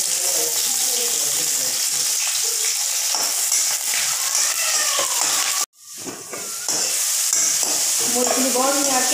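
Dried chilli and bay leaf sizzle loudly in hot oil for an Assamese pea ghugni, a dense steady hiss with stirring scrapes, briefly cut off midway before the frying noise swells back.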